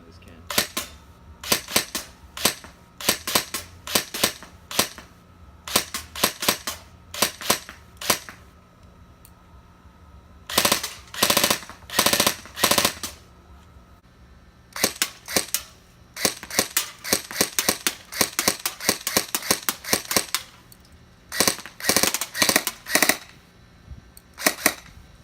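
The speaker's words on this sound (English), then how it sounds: "Got a 140 round mid cap set up, and just go ahead and shoot down this can." EMG Sharps Bros Jack airsoft AEG fed from a 140-round mid-cap, firing repeated bursts of sharp snapping shots at a can, with pauses between strings and a few single shots, close and crisp.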